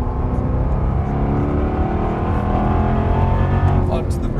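A race car's engine drones loud and steady on track under throttle, building with a rising rev toward the end, close and continuous.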